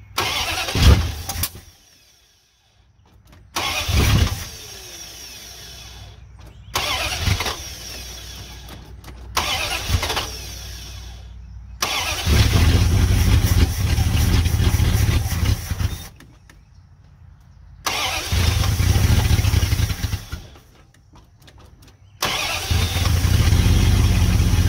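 A 1971 Dodge D100 pickup, abandoned for decades, cranks repeatedly in short bursts with pauses between, then catches and settles into a loud, steady rough idle with brief revs, close by.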